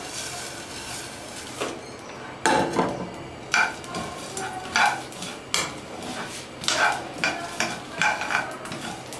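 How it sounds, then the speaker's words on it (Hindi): Whole spices for homemade chaat masala are dry-roasted in a frying pan, stirred with repeated scraping and clinking strokes of a utensil against the pan, close and rhythmic, with no voices. "ये हमारा फ्राई पैन बिल्कुल तैयार है और ये हम भूनेंगे"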